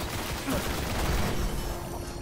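Rapid gunfire from the Destiny video game plays as a dense, continuous crackle of shots for about two seconds, with a faint electronic tone running underneath.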